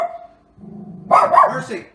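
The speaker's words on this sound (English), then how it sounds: "That's my doggie, Mercy." A pet dog gives a short bark-like yelp with a growly edge, following a faint whine and low rumble indoors, fairly close and loud.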